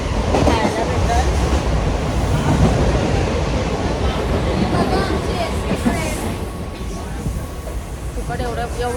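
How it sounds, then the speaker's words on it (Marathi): An ordinary local train on the way toward Versova rattles and rumbles steadily from inside the carriage, a dense continuous roar with voices talking over it. "आता काय आम्ही बसतो साध्या ट्रेनमध्ये."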